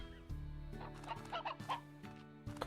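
Hens in the Slime Rancher video game cluck in short, scattered bursts over a steady droning game soundtrack, moderately loud and fairly close.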